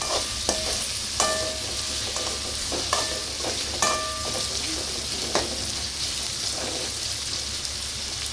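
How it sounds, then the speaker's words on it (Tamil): Chopped onions being sautéed in a pan, a continuous sizzle broken by sharp scrapes and clacks of a spatula stirring at irregular intervals, close and fairly loud, with no talking. "வெங்காயம் போட்டு நல்லா வந்து வணக்கி விட்டுறலாம்."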